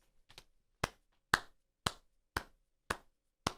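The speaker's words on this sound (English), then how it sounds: "that's my slow clap" Seven single hand claps come at a slow, evenly spaced rhythm, each crisp and close in otherwise quiet surroundings.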